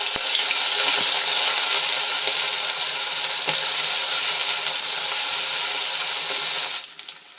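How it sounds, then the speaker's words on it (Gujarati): Cumin, a pinch of asafoetida and a spoonful of ginger-chili paste sizzle in hot oil, a loud, steady frying hiss with a few soft stirring clicks, tapering off at the end. "અને સરસ રીતે આપણે તેલમાં સાંતળી લઈશું"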